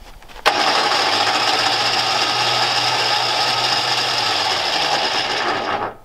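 An ALLTRACK AT-20HD winch runs by remote control, a steady loud mechanical whir with a ratcheting, geared texture that starts abruptly and holds evenly for several seconds before cutting off.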